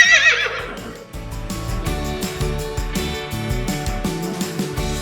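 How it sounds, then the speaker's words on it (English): A horse neighs in a farm-animal setting, one loud whinny followed by a shaky, repeating call over a rhythmic musical backing, close and prominent. "Horse. A horse says"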